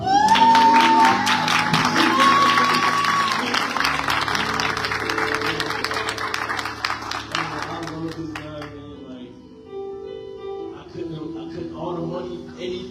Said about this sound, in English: Can everybody turn to my dad and clap it up?